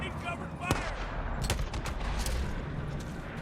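Shotgun blasts in the survival game Days Gone crack out in several sharp, close reports, irregularly spaced over a busy background of game noise, fairly faint overall.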